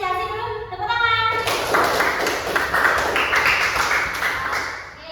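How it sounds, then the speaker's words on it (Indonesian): Classroom applause from an elementary school class, a burst of clapping that swells after a short spoken lead-in and holds steady for several seconds before fading. "Kita beri apresiasi dulu, tepuk tangan."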